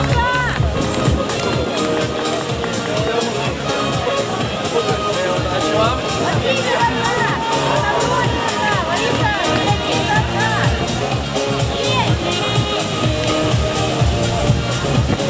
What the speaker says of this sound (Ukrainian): Оплески, друзі, більше,